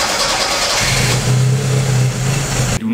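A car engine, being run while parked to check for an oil leak, turns over and catches, then runs with a loud, steady hum close by before cutting off at the end.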